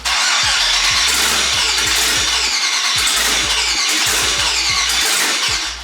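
The LS-swapped New Edge Mustang's engine cranks with rapid, loud starter chugging. It sputters roughly, trying to catch, throughout the clip.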